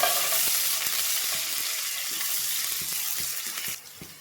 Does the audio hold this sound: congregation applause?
no